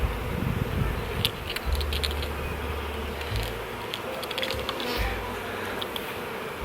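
Honeybees hum steadily around an open full beehive during a five-frame nuc install, a close, continuous buzz with rising and falling low drones as individual bees fly past.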